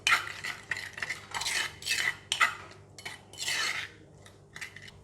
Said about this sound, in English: you can use the spoon to mix it like this